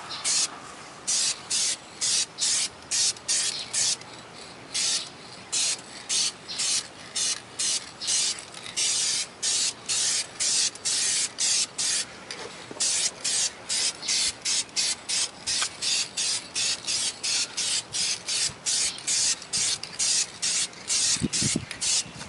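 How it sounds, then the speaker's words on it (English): Flame red paint hisses from an aerosol can in repeated short, rhythmic bursts, a close, crisp spray while painting a 2000 Dodge Dakota body panel, with brief pauses between passes. "I'm going to shake the can up, and then we'll spray it and see what it looks like"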